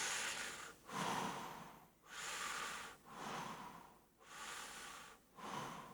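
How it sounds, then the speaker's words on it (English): Slow breaths drawn in through the nose during a guided relaxation exercise, several long airy inhales in a steady rhythm, close and soft, with no talking. "And breathe in."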